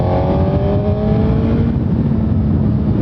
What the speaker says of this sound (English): It's so easy to just twist the throttle and go fast.